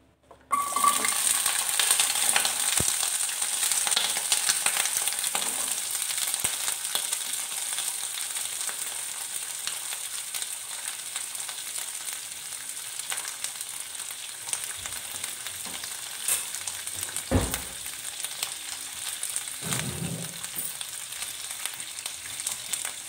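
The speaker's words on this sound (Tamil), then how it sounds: "சின்ன வெங்காயம் 15 இதை போட்டு நான் வதக்க போகிறேன்." Small shallots and garlic cloves sauté in hot oil in a pan for butter beans kulambu, a steady bright sizzle running throughout with occasional stirring clatter and a brief scrape partway.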